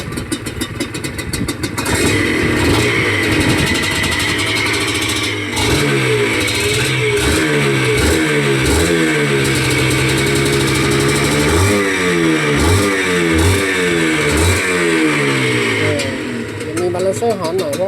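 A rebuilt Honda NSR150RR two-stroke motorcycle engine revs up and down repeatedly at close range, sharp blips rising and falling over a rattling idle, with someone talking throughout.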